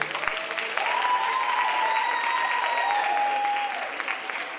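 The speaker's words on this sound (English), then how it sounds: "Let's give all our contestants another round of applause." Sustained applause from a pageant audience, steady clapping filling the room for several seconds, with a faint tone lingering underneath.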